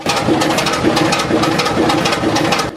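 Allen 6S37 oil engine of 500 horsepower, turning at 375 RPM at Welch's Dam fen drainage pumping station: a loud, close, steady rhythmic chugging with regular beats, running alone without talk.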